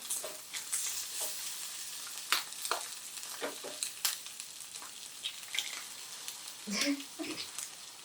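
A couple of eggs frying in a pan, a soft, fairly faint sizzle with clicks and pops from the utensil, and a short burst of movement near the end.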